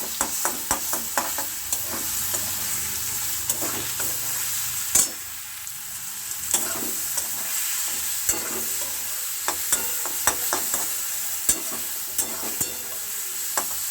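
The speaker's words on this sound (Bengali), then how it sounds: "মশলাটা দিচ্ছি সাইড থেকে ভেজে" Spice paste fries in a pan with a continuous close sizzle, punctuated by frequent stirring scrapes and clicks, including one louder knock partway through.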